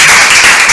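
Audience applause for a singer-songwriter, a dense, loud burst of clapping filling the whole short moment.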